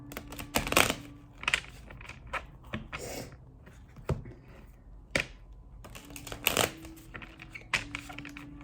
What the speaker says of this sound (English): I am now going to draw your random tarot card to go with the Wheel of Fortune card.